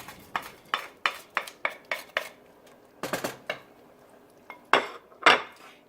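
Bacon is added back into a loaded cauliflower soup pot on a stove, with a run of sharp metallic clinks and scrapes of a spoon against the pot in an irregular rhythm, close and fairly loud, with no talking.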